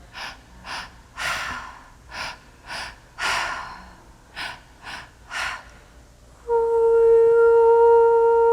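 Slow, deep breaths during a sacred breath meditation, about nine separate inhales and exhales coming in a steady rhythm, close and breathy. After them a sustained steady tone rises and holds to the end.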